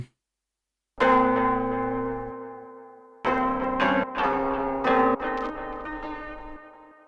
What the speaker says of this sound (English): Next, I might add something like the warble noise in here.